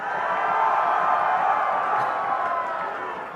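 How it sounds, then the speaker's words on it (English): A large arena crowd at a League of Legends grand final cheers for TSM, a broad roar of voices and whoops that swells, holds and slowly fades. "can we get a cheer for TSM?"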